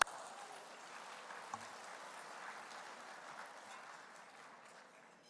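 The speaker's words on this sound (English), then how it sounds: "Round of applause for Dean" Applause from the audience at a graduation ceremony in Southern California, a soft, steady wash of clapping heard from a distance that fades slowly over a few seconds.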